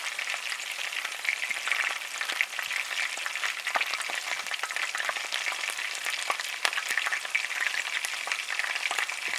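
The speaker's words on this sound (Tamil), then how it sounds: "இப்போ நம்ம பிளேட்டில் தனித்தனியாக எடுத்து வச்சுருக்க பீசஸ் எல்லாத்தையும் போட்டு பொரித்து எடுத்துக்கலாம்" Pieces of sweet wheat gala gala biscuit dough deep-frying in hot oil, a dense continuous crackling sizzle with many tiny pops, steady and close throughout, with no voices.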